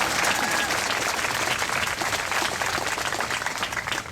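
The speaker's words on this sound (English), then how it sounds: "Okay, now you can clap." A high school graduation crowd claps in a dense, steady wash of applause that fills the space, loud and continuous with a little cheering mixed in, tapering slightly toward the end.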